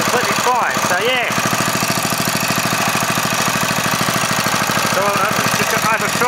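A Honda GX140 small engine runs right after a service with excess oil burning off, a fast steady loud putter throughout with brief voices over it near the start and end.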